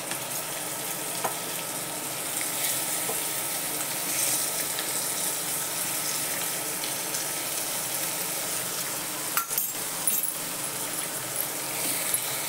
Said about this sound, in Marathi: परतून घ्यायची चांगली